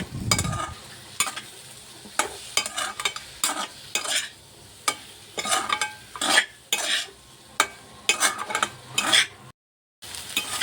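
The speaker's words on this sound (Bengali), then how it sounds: "2 মিনিট মতো মশলাটাকে ভালো করে কুক করব" Masala of chilli, turmeric, cumin and coriander powder with salt frying in a pan for chicken bhuna, stirred in repeated scraping strokes over a soft sizzle, close and fairly loud, ending in a brief gap.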